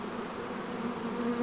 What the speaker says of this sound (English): Let's look at all these bees right here going on their orientation flights